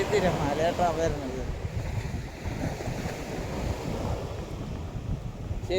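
Big waves surging onto a sandy seashore, a continuous roar of surf mixed with wind noise on the microphone, with a faint voice briefly audible near the start.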